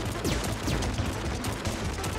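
Rapid gunfire from the player's gun in the Nintendo Switch shooter Vostok Inc., a dense continuous burst of shots with no talk over it.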